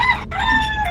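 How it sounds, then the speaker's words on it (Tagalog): A rooster crows in one loud, close, drawn-out call with a brief dip in the middle before the note carries on to the end. "may tumitilakok pang manok dun ah"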